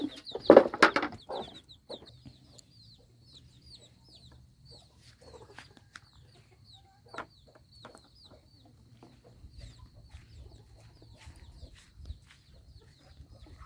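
Chickens cluck on a farm field, with a burst of clucking near the start and then scattered faint clucks and calls over a quiet outdoor background.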